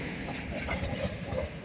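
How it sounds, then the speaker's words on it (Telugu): A train crosses a bridge over the Mahanadi river, giving a steady, close rumble of rolling wheels with faint rhythmic rail clatter throughout. "బ్రిడ్జి నుండి ఇప్పుడు ట్రైన్ వెళ్ళిపోయింది చూడండి."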